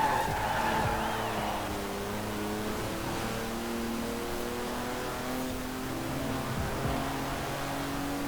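A light, low-weight classic car revs hard in Forza Horizon 4, its engine whining through a steady stream of rising and falling harmonics across the whole clip, loud and close with no talk.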